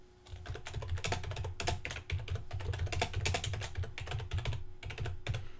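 Typing on a computer keyboard while entering text into a WordPress page builder; a rapid, uneven stream of close, crisp key clicks with brief pauses between words, no voices.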